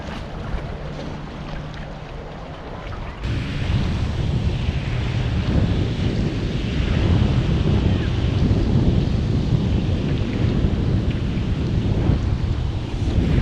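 Strong wind gusting across open water around a small fishing boat, a loud steady rushing roar with buffeting on the microphone, building after a quieter start and continuing without pause.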